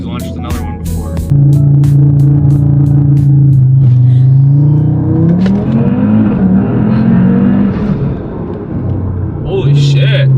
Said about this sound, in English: It's his first time launching my RS3